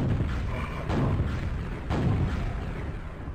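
Bomb explosions in Quake, two heavy, booming blasts about a second apart that roll into a dense, loud rumble, with no voices.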